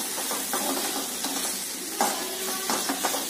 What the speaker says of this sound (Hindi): और ये पूरा मिक्स करेंगे इस तरीके से